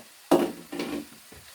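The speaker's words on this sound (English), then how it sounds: "I'm going to turn this heat up because I want to get some sizzle in my swizzle." Beef sizzles in a hot pot while a beef stew is being made, in short bursts of frying crackle separated by brief pauses, close and moderately loud with no talking.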